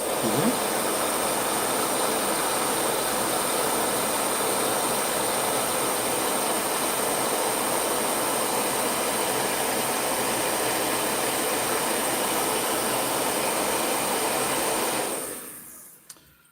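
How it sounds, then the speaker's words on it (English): A steady, loud whooshing drone of a hair dryer runs continuously, then cuts off near the end, leaving quiet. "if you hear the hair dryer, it's because"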